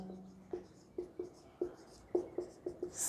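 Chalk or marker writes on a board during a physics lecture on electric capacitance, making a run of short, separate taps and strokes in an irregular rhythm, close and fairly faint in a quiet room.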